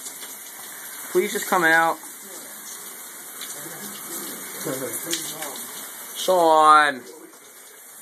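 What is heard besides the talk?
shower water running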